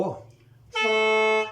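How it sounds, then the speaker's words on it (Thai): A brief spoken phrase fades out, then a reedy khaen (Lao mouth organ) sounds a single sustained note, do, steady and close, for under a second. "วันนี้เราลงมาเป่าโน้ตดูวันนี้เสียงโด"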